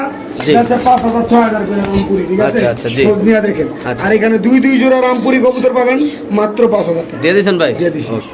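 White king pigeons cooing in low, throaty repeated calls at a pigeon seller's stall, mixed in with steady talk from people nearby throughout.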